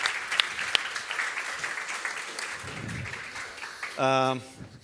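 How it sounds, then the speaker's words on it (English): An audience applauds panelists at a kickoff event, steady moderate clapping that gradually thins out, with a speaker's voice over it and a short tonal chime near the end. "applaud to our panelists"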